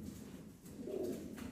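Pigeons coo softly in a Bukhara pigeon loft in Kardzhali, Bulgaria, a low, faint murmuring that swells briefly midway against quiet background.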